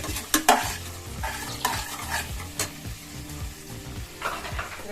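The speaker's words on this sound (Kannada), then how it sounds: "ಈಗ ಇದು ಫ್ರೈ ಆಗ್ತಿದೆ" Fresh green peas fry in a pan over a medium flame, a quiet sizzle under quick, rhythmic spatula scrapes and taps, with a few sharper knocks near the start.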